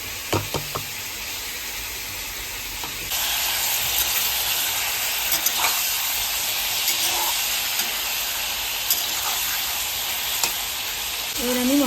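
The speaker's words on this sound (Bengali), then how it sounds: "যখন মাংসগুলো ভাজা ভাজা হচ্ছে" Chicken pieces for a Bengali-style chicken curry frying in a pan, a steady, dense sizzle that grows louder after the first few seconds, with a few faint clinks and stirring sounds and no talking.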